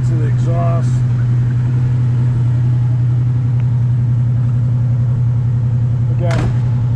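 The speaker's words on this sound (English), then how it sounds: "I'll let you listen to the exhaust." A 1965 Pontiac GTO hardtop idles in neutral, its exhaust giving a steady, loud, low burbling rumble that runs throughout with no revving. Brief speech-like sounds and a short blip come near the start and again near the end.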